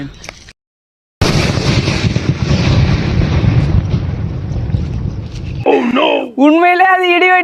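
A thunder-type firecracker goes off with one huge, sustained blast that rumbles on for several seconds after a brief silence, followed by excited shouting close by.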